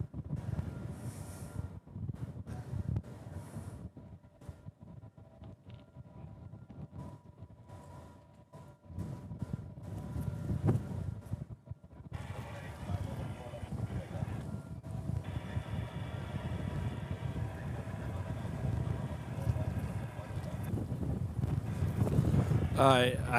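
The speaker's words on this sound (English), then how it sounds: "Whoa, wind." Wind buffets an outdoor spot near an airfield in Hawaii, a low rumbling roar with gusty surges, steady and strengthening toward the end, alongside occasional voices and distant mechanical noise.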